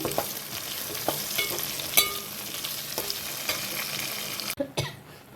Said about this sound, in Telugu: అల్లం పచ్చి వాసన పోయిన తర్వాత రొయ్యలు వేసుకుందామండి